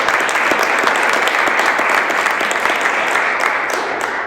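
An audience at a Caribbean leadership event in Rhode Island applauds, a loud, sustained roar of many hands clapping close by that tapers slightly toward the end.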